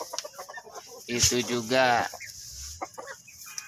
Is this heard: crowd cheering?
no